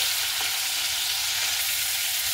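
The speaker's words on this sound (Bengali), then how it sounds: "চিংড়ি মাছটাকে দিয়ে একটু হালকা এপিট ওপিট করে ভেজে দিতে হবে।" Shrimp sizzle lightly in hot oil in a pan for a Bengali potol chingri dish, a steady, even frying hiss that holds throughout with no voices.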